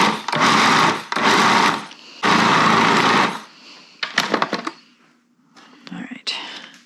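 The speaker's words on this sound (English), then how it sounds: "This isn't the world's greatest food processor." A small, modest food processor grinds plums, dates and nuts in three loud whirring pulses of about a second each, followed by clattering and a quieter hum as a voice speaks.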